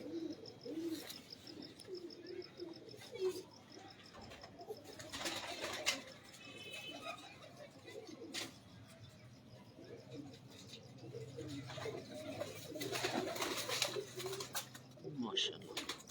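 Pigeons coo and chirp throughout at fairly close range, with flutters, handling noises and faint voices mixed in around them.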